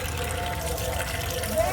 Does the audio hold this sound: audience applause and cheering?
no